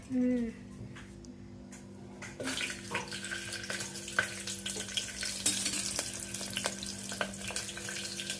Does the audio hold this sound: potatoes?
yes